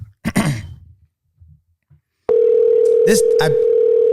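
A telephone dial tone starts abruptly after a short stretch of breathy vocal sounds and quiet gaps, then holds as a loud, steady, continuous hum, briefly overlaid by a couple of short noises.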